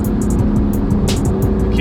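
A Lexus LC500 engine holds at high revs, giving a loud, constant drone that stays close and steady, with a few brief sharper bursts on top.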